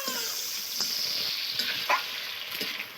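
Chopped tomatoes hit meat frying in a pan, raising a continuous bright sizzling hiss with a few faint utensil taps, close and fairly even throughout.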